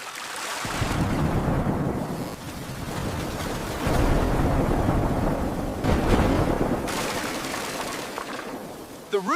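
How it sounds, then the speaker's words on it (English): A big night thunderstorm rumbles and roars with heavy, broadband noise that swells and rolls continuously, loud and close, as wind and rain batter a house. "A big storm comes at night."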